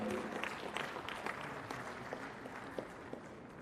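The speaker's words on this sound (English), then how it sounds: "So give a big round of applause for him." Audience applause at the inaugural session of the 74th All India Commerce Conference, a steady wash of clapping from a large hall crowd that runs evenly throughout with scattered sharper claps.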